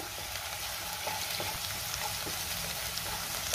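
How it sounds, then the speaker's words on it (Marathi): Ginger garlic paste sautés in a pan of oil for a capsicum dish, giving a dense, steady frying hiss with faint stirring scrapes throughout. "आता आपण यामध्ये आलं लसणाची पेस्ट घालूया आणि पुन्हा 1 मिनिटभर चांगलं परतून घेऊया"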